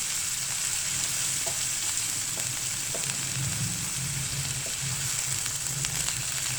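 Minced mutton sizzles and fries steadily in a pan, a continuous crackling hiss with occasional stirring scrapes and clinks.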